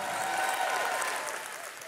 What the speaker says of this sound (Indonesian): boleh tepuk tangannya yang paling meriah